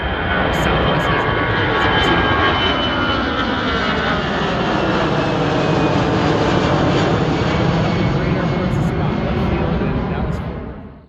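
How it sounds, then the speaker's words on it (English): United Boeing 737 MAX 8 jet inbound from LAX, arriving at night in Cleveland, its loud broadband engine roar sustained close by for about ten seconds before fading at the end. "They're inbound from LAX, Los Angeles International. It's a 737 MAX 8."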